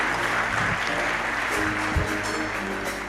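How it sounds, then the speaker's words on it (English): Applause from the audience at the Ladha za Africa award ceremony, a broad dense wash of clapping that stays level throughout, heard over a low steady hum in a large hall. "a round of applause for Dedan Kimathi"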